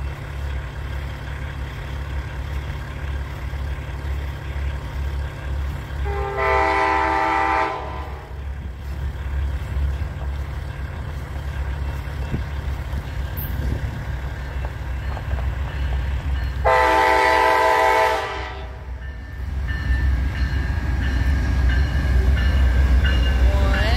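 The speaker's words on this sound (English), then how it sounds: "I bet we got Amtrak Southwest Cheif passenger train." An Amtrak Southwest Chief passenger train of nine cars rumbles past continuously with a loud, heavy low drone, while its horn sounds two long blasts several seconds apart, at La Plata, Missouri.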